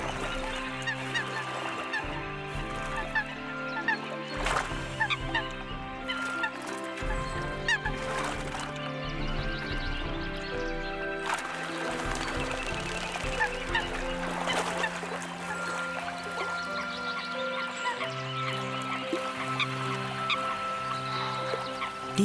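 Eurasian coots honking and clucking repeatedly as a pair defends its territory, harsh nasal calls overlapping loudly and close throughout over a dense wetland chorus of other birds.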